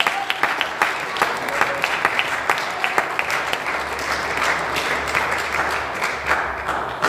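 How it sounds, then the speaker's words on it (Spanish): A church congregation claps steadily for several seconds, a dense, sustained round of applause with a few sharper individual claps standing out. "Denle un aplauso al Señor."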